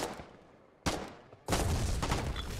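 Gunfire in the war game Foxhole, update 31: a faint shot, then two loud bursts of rifle fire at about 0.8 and 1.5 seconds, the second one rolling on as sustained firing close by.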